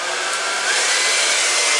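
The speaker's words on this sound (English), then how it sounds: "Okay, got my blow dryer." A blow dryer drying hair gives a steady, loud, continuous whoosh of rushing air that holds an even level throughout, with no voices over it.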